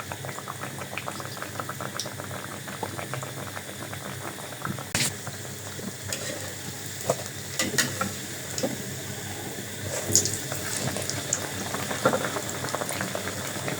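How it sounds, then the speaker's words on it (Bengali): Chicken bread pakora fries in hot oil with a steady, fairly quiet bubbling sizzle and occasional sharper pops, heard up close with no one talking. "এভাবে করে সুন্দর করে ভাইজা নিব"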